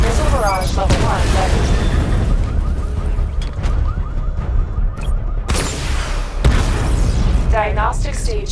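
Missile barrage explosions in Batman Arkham Knight: a series of booming blasts and bursts scattered through the passage, mixed under ongoing spoken dialogue and game effects.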